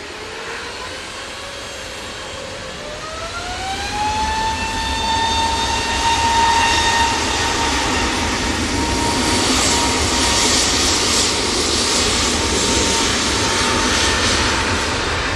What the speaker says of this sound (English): And we've just had the Malta Air arrive.